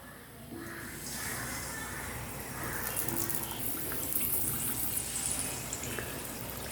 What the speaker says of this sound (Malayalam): നമുക്കതിലേക്ക് ഓരോ ചിക്കൻ പീസുകളായിട്ട് നമുക്ക് ഇട്ട് കൊടുക്കാം.